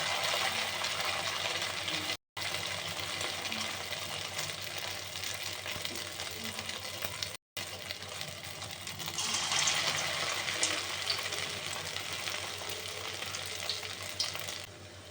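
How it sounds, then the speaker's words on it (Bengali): Egg and soybean pieces fry in hot oil in a karahi wok, giving a steady, close sizzle that runs throughout with two brief dropouts and a slightly brighter crackle near the end. "এবার এগুলোকে আমি সব তুলে নেব, আর এইভাবে সবকটা আমি ভেজে নেব।"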